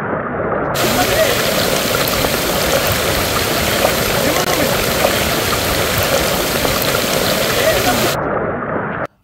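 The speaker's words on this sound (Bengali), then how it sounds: "ঝর্ণার গান শোনাই।" A broad, loud, continuous roar of rushing water from a hill waterfall at Sitakunda, swollen after rain, close and unbroken for the whole clip.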